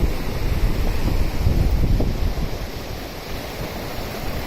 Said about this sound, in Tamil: ஆற்று தண்ணியும் கடல் தண்ணியும் சங்கமிக்கிற இடம்